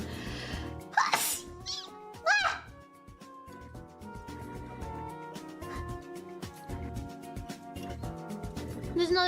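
A person sneezes twice early on, close and sharp, over a constant backdrop of music and game sounds.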